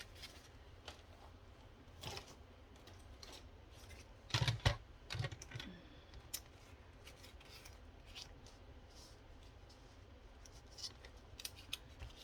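Scissors snip through paper pieces at a craft table, a quiet scattering of short cuts with a brief busier cluster of snips and rustling near the middle.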